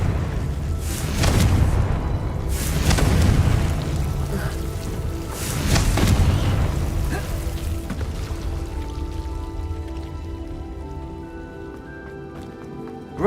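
Fiery blasts from the Confringo spell in the wizarding game Hogwarts Legacy, several deep booming bursts in the first half fading into crackling debris and a lingering low rumble.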